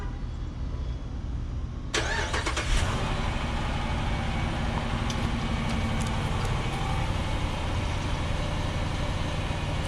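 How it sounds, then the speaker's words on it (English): A 2014 Jeep Grand Cherokee Summit with the 5.7 L Hemi V8 and its stock exhaust cranks and fires after a quiet start. It then settles into a steady, muted idle that stays loud and close to the end, with no talking. "I'll give a little quick startup right now just so you guys can hear the stock exhaust"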